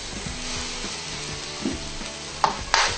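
Adobo fried rice with soy sauce being mixed in a pan, a soft sizzle under a few scraping strokes and two brief louder scrapes near the end.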